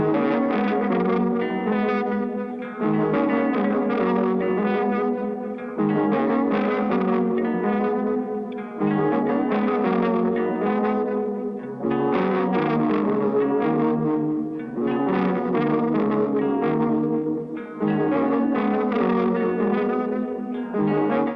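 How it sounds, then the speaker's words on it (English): A tape loop soaked in delay and distorted effects repeats in roughly three-second phrases with a loose, uneven feel, a dense warped tone that cuts off briefly between each pass. "This is the tape loop I was talking about."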